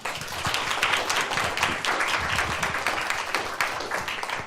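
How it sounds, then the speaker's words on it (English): Steady applause from an audience welcoming a speaker at a talk on legal protections for farmed animals, a dense crowd of claps sustained evenly for several seconds at moderate distance. "So let's all please give him a round of applause."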